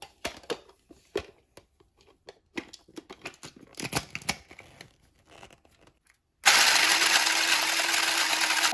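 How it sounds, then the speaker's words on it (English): A small USB-charged mini grinder blitzes bread into breadcrumbs, starting abruptly after several seconds of scattered handling knocks and running as a loud, steady buzzing whir to the end. "I have this USB charged mini grinder. I'm going to use it to make some breadcrumbs."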